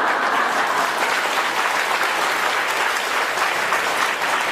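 Audience applause fills a hall at a Buddhist dharma assembly in Taipei, a steady loud wash of many hands clapping together, sustained evenly throughout with no break.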